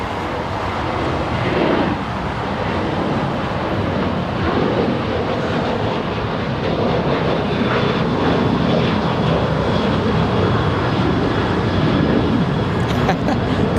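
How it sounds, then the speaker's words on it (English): A Southwest airliner taking off from runway 25 right at Los Angeles International Airport produces a sustained, loud jet roar with a broad rumbling wash that holds steady across the takeoff roll. "looks like we have runway 25 right open. Southwest, taking off."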